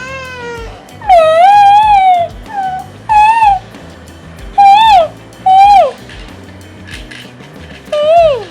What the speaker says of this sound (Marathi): पिल्लू पण रडायला लागलं